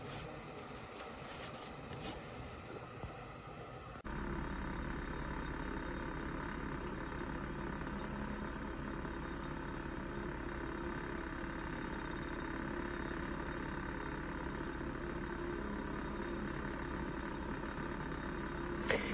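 Dr Infrared 1500-watt portable space heater running indoors, a steady, loud low hum and fan whoosh with a deep rumbling drone that stays constant after a brief clatter at the start.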